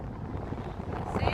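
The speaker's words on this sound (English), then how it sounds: "It's getting windy now." Wind rushes and buffets against the microphone on a snowy mountain road near a summit in northern Scandinavia, a steady rumbling roar that swells toward the end, with no voices.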